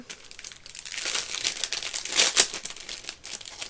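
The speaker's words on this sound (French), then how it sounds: "Faut que je vois s'il n'est pas au fond de l'enveloppe." Fingers rummage through a paper envelope for a small craft die, producing close, continuous crinkling and rustling that swells to a brief loud crackle midway.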